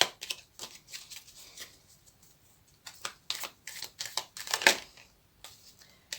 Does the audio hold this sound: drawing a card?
yes